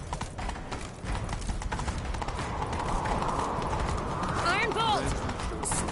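A horse gallops in the Witcher 3: Wild Hunt video game, with rhythmic hoofbeats close by under a steady game soundscape, and a brief whinny near the end.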